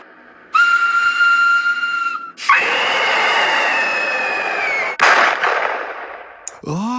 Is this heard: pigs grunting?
no